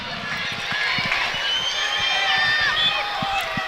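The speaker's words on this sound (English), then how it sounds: "you can hear the crowd getting behind them" Crowd at a Dublin ladies' senior Gaelic football final, a steady distant roar of cheering and voices with scattered thuds, heard under commentary.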